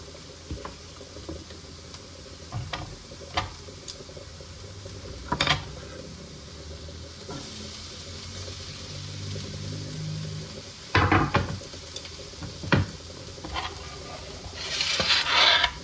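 Beef going into a hot pan and sizzling steadily, with a continuous frying hiss, occasional clatters and stirring scrapes, close and moderately loud, with no talking.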